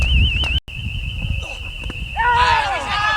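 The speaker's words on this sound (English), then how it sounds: "They've turned the alarm off." An alarm rings at a cricket ground during a club match, a loud, steady electronic tone with a slight warble that holds for about two seconds, then gives way to other crowd and ground sounds.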